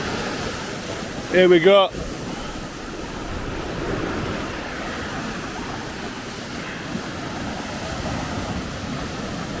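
North Sea waves wash ashore at Robin Hood's Bay, a steady low surf roar with wind buffeting the microphone and a short spoken phrase near the start.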